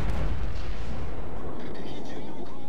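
Heavy booming naval cannon blasts, about three guns, from the battleship Izumo in World of Warships, deep and loud, rolling into a rumbling decay.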